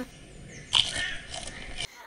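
A cartoon eating sound in the Fiete World children's app game, a short burst of crunchy biting and chewing lasting about a second before cutting off.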